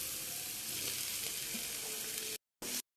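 Onion leaves frying in a pan sizzle with a steady, close crackle, then cut out briefly twice near the end.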